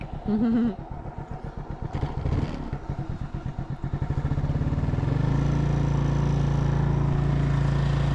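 A motorcycle engine starts with rapid chugging pulses that build into a steady, loud droning idle, close by on a farm in Thailand.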